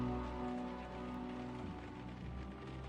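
Steady rain falling in the adventure game Unavowed, a continuous even hiss of drops on a surface with a faint low hum beneath, heard alone without talk.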